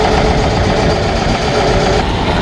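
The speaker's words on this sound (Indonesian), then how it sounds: "Berhubung di depan itu ada suara mesin yang keras," Loud, steady engine noise idles just outside a hotel in Makkah near Masjidil Haram, a continuous low mechanical drone alone with no voices.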